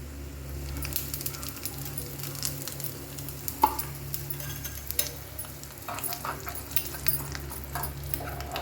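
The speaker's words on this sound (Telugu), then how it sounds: "మిరియాలు బాగా కాలాలన్నమాట." Crushed black pepper and cumin roasting in hot oil in a pan: a low, steady sizzle with scattered soft stirring clicks and scrapes, close and fairly quiet.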